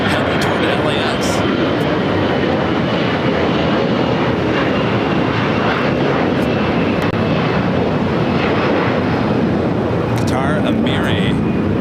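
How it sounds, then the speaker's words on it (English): A Qatar Amiri Airbus A340 on approach to LAX gives a loud, steady jet engine roar that fills the whole stretch at constant strength, with faint background sounds near the end. "We got another Qatar Amari A340."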